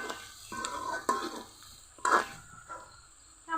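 Radish and potatoes sautéed in a pan with turmeric and ground spices, a low steady sizzle broken by several loud scraping stirs of a spatula against the pan, close and without talk.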